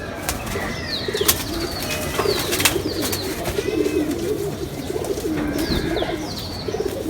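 Pet pigeons coo in low rolling murmurs close by, layered with occasional wing flutters, clicks and faint higher chirps in the background.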